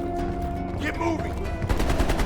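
In Call of Duty: Black Ops Cold War, a heavy machine gun opens up in a rapid, loud burst of evenly spaced shots, following a moment of tonal game sound and ambience.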